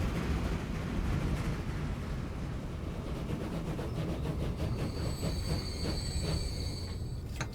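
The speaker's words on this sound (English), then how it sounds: "Afterwards the train finally pulled into the meat factory." A freight train in Transport Fever 2 pulls into a meat factory, with a steady low rumble of wheels on track and rhythmic clicking, then high metallic squeals of braking wheels rising near the end as it slows.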